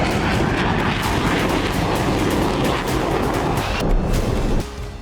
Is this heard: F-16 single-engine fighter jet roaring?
yes